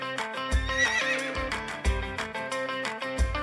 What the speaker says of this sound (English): A baby horse is called a foal.